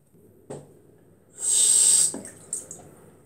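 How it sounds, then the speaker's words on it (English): A bathroom tap runs briefly while a face is washed, a short steady gush lasting under a second between small splashes and drips, close and alone. "So I'm gonna wash my face."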